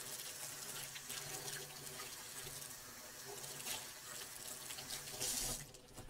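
Hands scrubbed under a running kitchen tap before breaking down a brisket, a steady continuous stream of water splashing into a sink, fairly soft and unbroken, with a brief brighter splash near the end.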